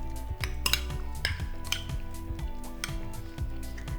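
Peeled, deveined shrimp tossed with salt and olive oil in a bowl make soft wet squishing and scraping, punctuated by repeated clinks of a utensil against the bowl, close and fairly quiet.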